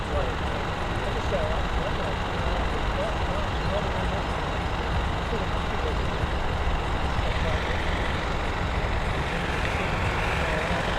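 Lorries move on an airport apron with a steady, broadband engine rumble mixed with general vehicle noise, continuous and moderately loud. A voice talks over it.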